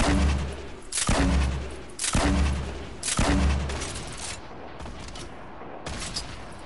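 Gunfire in the Fortnite video game comes in several loud bursts of rapid shots, each roughly half a second long, with short gaps between them and quieter game noise afterwards.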